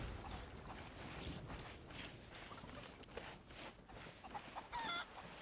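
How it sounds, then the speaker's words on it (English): Chickens cluck in short, irregular bursts in the Sea of Thieves video game, set over a steady wash of sea and ambient noise and fairly close. "Gold chicken, black chicken."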